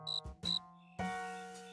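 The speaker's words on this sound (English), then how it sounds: "George, if we don't catch that cricket, we'll never get any sleep" A cartoon cricket chirps in a few bright, close bursts: two brief chirps, then a longer sustained trill that fades slowly, with no talking.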